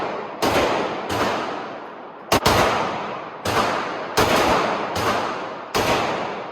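Tokarev M57 semi-automatic pistol firing high-velocity handgun rounds, about seven loud, sharp reports at irregular intervals with short ringing decays, recorded close outdoors with no talking.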